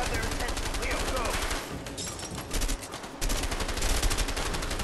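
Rapid gunfire from a cover-shooter firefight in the A Way Out video game, dense bursts of automatic shots rattling almost continuously, loud and close, with short lulls.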